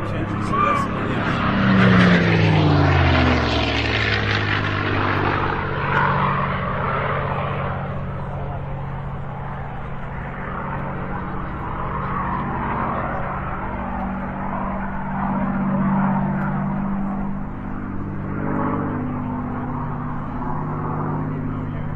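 A P-51 Mustang with an American Packard-built Merlin engine flies at an air show, its loud engine roar sweeping past with a falling pitch early on, then a steady drone fading into distance with crowd noise.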